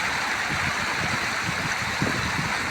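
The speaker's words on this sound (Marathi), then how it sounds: "नाला भरून चाललंय" A village stream (nala) runs full after monsoon rain, a steady close rushing and gurgling of water with no pauses and no talk.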